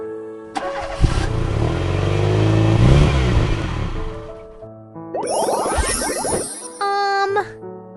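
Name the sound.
cars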